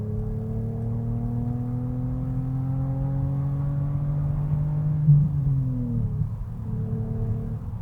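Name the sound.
BMW Z4 naturally aspirated engine in third gear at 4,000 RPM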